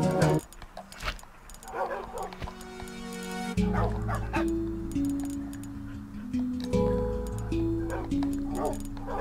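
Dog barks and yips from a Minecraft game while a doghouse is built, short repeated barks over game music and clicking, with a voice talking now and then.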